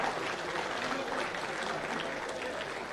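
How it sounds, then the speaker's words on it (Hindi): Steady, dense applause from a large audience at a state award ceremony for top students, continuous and fairly distant, with no break. "देखिए जोरदार तालियां।"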